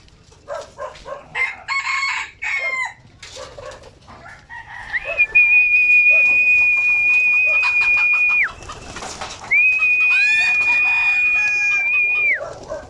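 Two long, steady whistle notes ring out to call pigeons, separated by a short pause, amid the clucking and cooing of nearby pigeons.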